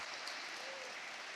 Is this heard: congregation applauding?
yes